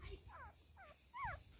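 A mother dog with her puppies, heard as a few faint, short, high whining whimpers in quick succession over a quiet low background murmur.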